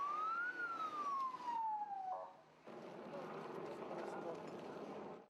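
A wailing ambulance siren on a street after a blast in Jalalabad, its pitch sweeping up and down before traffic noise takes over, heard at moderate distance.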